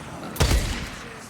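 Gunfire from a sniper in the video game Days Gone: a single loud, booming shot with a deep low thump and a short fading tail.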